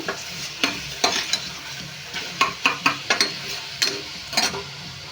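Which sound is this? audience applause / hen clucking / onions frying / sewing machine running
onions frying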